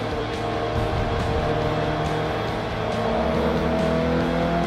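A race car engine drones steadily while drifting in Forza 3, loud and close with a sustained roar.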